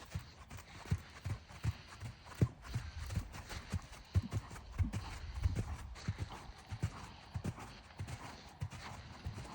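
A young dressage horse trots under a rider in a training session, its hooves beating a steady, even clip-clop rhythm at close range, with faint breathing and tack noise in between.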